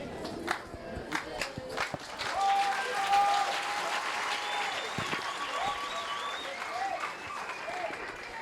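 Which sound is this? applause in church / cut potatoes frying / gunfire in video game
applause in church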